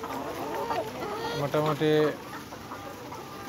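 Layer hens at 245 days old cluck on a poultry farm, several short, close calls rising above a busy flock murmur while someone talks throughout.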